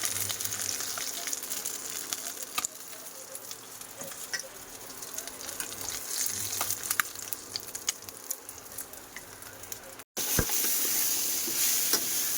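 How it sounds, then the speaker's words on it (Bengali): Koi fish curry sautéing in a pan, loud steady sizzling broken by repeated scraping and stirring strokes of a spatula, close up, with one brief cut near the end. "তরকারিটা খুব ভালোভাবে কষা করেছি"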